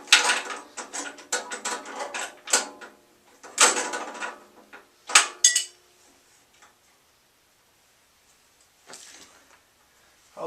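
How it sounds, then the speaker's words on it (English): An adjustable wrench works on a bolt of a bandsaw during a height-extension fit-up, giving a burst of metallic clicks, ratcheting scrapes and knocks in quick irregular clusters, then quieter pauses with a final clank. "Now I can get my adjustable wrench down here."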